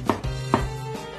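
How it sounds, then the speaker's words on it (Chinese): A kitchen knife mincing garlic on a cutting board: two or three crisp, close chops spaced about half a second apart over a low steady hum, with no voices. "大蒜切末"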